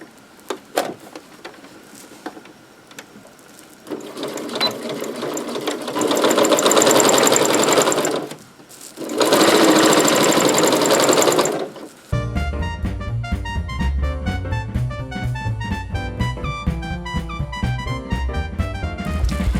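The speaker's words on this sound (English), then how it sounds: "now we're ready to sew it together, leaving a gap to turn it" A sewing machine stitches together a double pot holder with thumbs, its fabric pinned right sides facing. It runs in two loud, sustained bursts separated by a brief pause, then music takes over.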